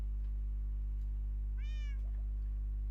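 A single short cat meow from the Minecraft video game sounds once, faint over a steady low electrical hum, with no talking.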